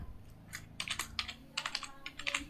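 Keys on a computer keyboard are typed in a quick burst of light clicks, close and fairly crisp, with short gaps between key groups and a faint background hum.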